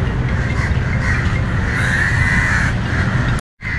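Crows cawing loudly and continuously beside Beira Lake in Colombo, Sri Lanka, their harsh calls overlapping over constant outdoor background noise, with a brief dropout near the end.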